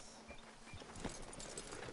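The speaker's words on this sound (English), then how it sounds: "So we're just gonna get off my horse." Horse hooves clop softly as a rider dismounts in a video game, a few faint irregular thuds over low background noise.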